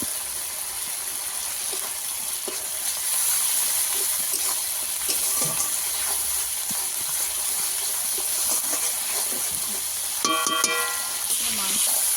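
Spices for a fish curry sizzle in a pan, a steady hiss with crackles and occasional scraping stirs, and a brief louder burst of spitting near the end.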